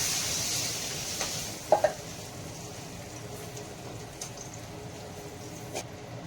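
Water goes into a pan of frying potato, pumpkin and coriander, giving a brief loud hiss that quickly settles into a low, steady simmering sizzle, broken by a couple of quick clinks.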